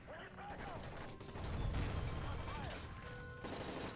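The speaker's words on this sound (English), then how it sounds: "That's gunfire! Hijackers are taking the plane!" Dense, rapid gunfire in Call of Duty: Modern Warfare 3 crackles in a chaotic burst with mechanical clatter and rumbling aboard a hijacked plane, fairly muffled, with faint voices mixed in.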